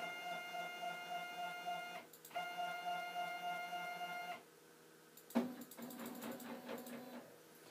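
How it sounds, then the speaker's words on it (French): A RoBo 3D printer raising its axis gives off a steady, close mechanical motor whine that breaks briefly, resumes, then stops and gives way to a few scattered clicks and rattles. "juste vous refaire monter l'imprimante"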